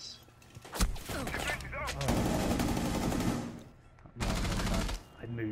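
Video game gunfire with sustained, loud automatic bursts and a few sharp single shots in between, a long rattling volley followed by a shorter one, with people talking faintly underneath.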